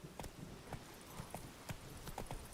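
Roach, a horse in The Witcher 3, trots with crisp, evenly spaced clip-clop hoofbeats, close and steady across the whole stretch, with no voices over them.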